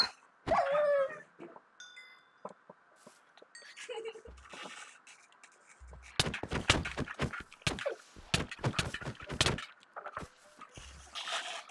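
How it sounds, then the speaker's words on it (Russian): A dog in the video game Minecraft barks and whimpers in short bursts among clicks, thuds and busy game noise, with a few brief voice sounds mixed in. "Собачка!"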